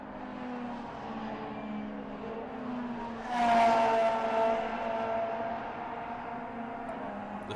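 Norma M20 FC prototype race cars lap the Barcelona circuit, a steady engine drone swelling into a louder, higher whine as a car passes nearby around the midpoint, then fading back to a distant hum.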